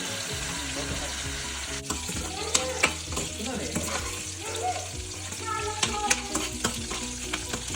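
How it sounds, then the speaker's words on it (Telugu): Chopped tomatoes and green chillies sizzle in a cumin tempering in hot oil, a steady close frying hiss broken by occasional clinks and scrapes of stirring. "జీలకర్ర తాలింపు వేసుకొని దాంట్లో ఈ టమాటో, పచ్చిమిర్చి ఇవన్నీ కట్ చేసుకునేవన్నీ వేసుకొని కుక్ చేసుకోవాలి."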